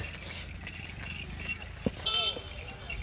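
Hallikar cattle hooves clip-clop along at a trotting pace, one sharp knock standing out, while people talk over the hoofbeats.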